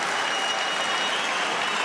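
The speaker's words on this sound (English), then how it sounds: "The crowd here trying to get behind Celaya." A crowd at an MMA fight cheers and claps in a dense, continuous wash of noise that holds steady and loud throughout the short stretch, with no clear voice standing out.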